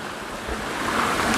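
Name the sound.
Bromley Brook flowing under a bridge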